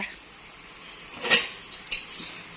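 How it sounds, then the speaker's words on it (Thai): Lid set down on a steamer pot holding wrapped northern Thai steamed chicken parcels: two quick metallic clinks, close and fairly soft, in a quiet kitchen. "อ่าปิดฝาป้าปิดฝา"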